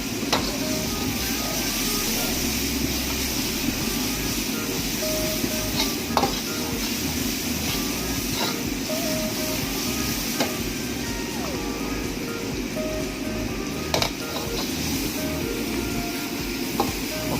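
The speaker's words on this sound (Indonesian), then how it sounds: "kita aduk-aduk aja terus tumisan ini, gunanya biar kematangan dia rata ya guys" Spice paste for Ayam Rica Rica sautés in a pan under steady stirring, giving a continuous close sizzle with scattered scraping clicks of the utensil against the pan, and no talking.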